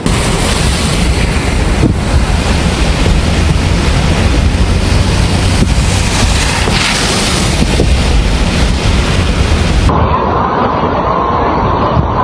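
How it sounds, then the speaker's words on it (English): A loud, continuous roar of rushing flash floodwater in Kerrville, Texas, with wind buffeting the microphone, dropping to a quieter rumble near the end. "We are having major floods in Kerrville, Texas."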